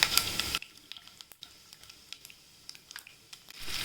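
Garlic frying in oil for a ridge gourd rind chutney, a loud crackling sizzle at first that drops to a quieter, steady hiss with scattered pops and spits, then swells again at the end.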